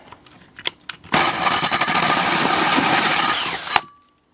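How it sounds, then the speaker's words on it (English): A hole saw grinds steadily through a cargo trailer's floor along a pilot hole, a loud continuous drilling whine lasting about two and a half seconds before stopping abruptly, preceded by a few scattered clicks and knocks. "But first, I have to use a hole saw and drill a hole."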